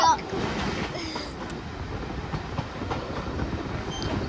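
Steam locomotive Sir Nigel Gresley running on the Mid Hants Railway, heard as a steady rumbling roll with rhythmic clatter of wheels, fairly close and continuous throughout.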